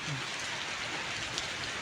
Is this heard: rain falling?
yes